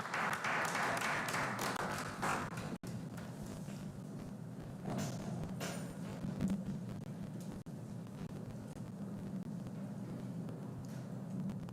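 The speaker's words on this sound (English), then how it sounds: "Let's welcome him with a round of applause." An indoor audience at a report launch event claps to welcome a speaker, a steady round of applause that lasts throughout at moderate loudness.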